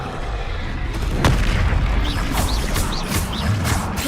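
An Expelliarmus spell effect from the video game Hogwarts Legacy lands as a heavy booming blast, followed by a run of crackling, whooshing magical bursts in quick succession.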